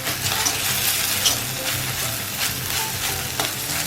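Ginger and garlic fry in a pan without onions, producing a close, continuous hiss of sizzling oil with light stirring scrapes throughout.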